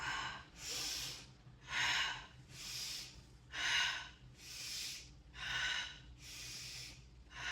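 Guided breath work: a sequence of quick, audible inhales and exhales, about eight breathy bursts in an even rhythm, close and clear with no talking.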